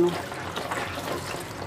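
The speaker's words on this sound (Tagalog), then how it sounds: "huhugasan ko na tong aking gulay" Steady running water splashing over vegetables being washed in a kitchen sink for lumpiang togue, a continuous close wash with a voice faintly underneath.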